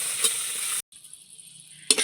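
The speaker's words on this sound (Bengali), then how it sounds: "কড়াইতে তেল দিয়ে দিদা কিছুটা পাঁচ ফোড়ন আর শুকনো লঙ্কা দিয়ে দিয়েছে" Panch phoron and dried red chillies hit hot oil in a kadai with a loud, close sizzle. It cuts out abruptly, returns as a softer steady hiss, then flares up loud again at the end.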